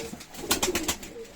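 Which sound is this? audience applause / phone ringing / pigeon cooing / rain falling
pigeon cooing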